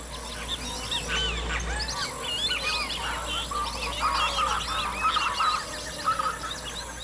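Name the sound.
flocks of wading birds calling in Orinoco Plains lagoons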